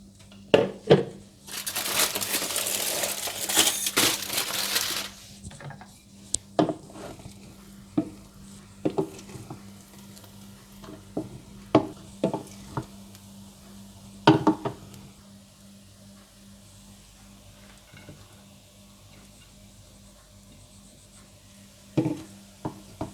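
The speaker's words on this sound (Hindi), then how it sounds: "और अब इसे मैं अच्छी तरह से मिलाकर सर्विंग डिश में निकाल लूंगी।" Peas pulao (matar pulao) being mixed and spooned into a serving dish: a loud scraping rush of rice at the start, then scattered clinks and scrapes of a spoon against the pot, near and intermittent, with no talk.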